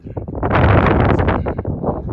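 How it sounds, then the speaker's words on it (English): Strong gusts on a ridge along the Arizona Trail buffet the microphone in a loud, roaring rush that swells and eases over a couple of seconds. "whoa, it's a little windy"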